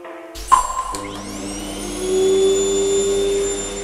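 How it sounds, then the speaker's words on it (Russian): A household vacuum cleaner starts up loud and close after a couple of clunks, its motor whine rising in pitch and then settling into a steady high drone. "Жена, неси пылесос."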